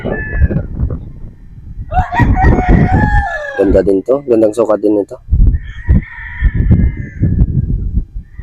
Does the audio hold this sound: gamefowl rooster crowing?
yes